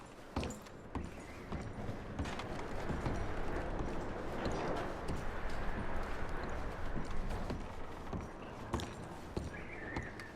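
Horse hooves clip-clop steadily at walking pace over a continuous background wash, moderately close, with no talking, in the video game Red Dead Redemption 2.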